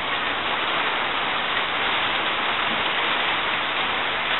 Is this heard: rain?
yes